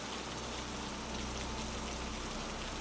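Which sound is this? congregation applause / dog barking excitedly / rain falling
rain falling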